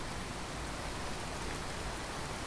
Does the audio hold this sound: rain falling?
yes